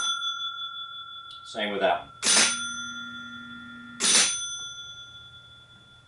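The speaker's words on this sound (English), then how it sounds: "When you hit a target, you hear the knocker and you get a free game." Gottlieb 1955 Southern Belle pinball machine, an engineering sample, sounds its knocker and bell-like chimes for a free game: a couple of sharp ringing strikes with lingering tone, someone talking briefly between them.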